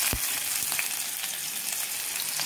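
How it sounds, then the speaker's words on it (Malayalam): Crushed onions sauté in a little oil in a wok, giving a steady, close, bright sizzling hiss with a few faint stirring clicks, and no voices. "എന്നിട്ട് ഉള്ളി നന്നായിട്ട് വഴറ്റിയെടുക്കാം."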